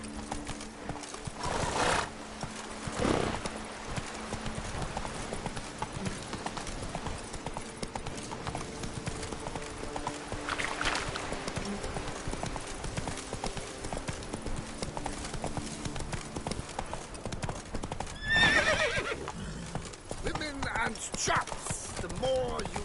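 Geralt's horse Roach galloping in The Witcher 3, with steady rhythmic hoofbeats throughout, a whinny near the end and a few louder thuds, all over quiet background game sound.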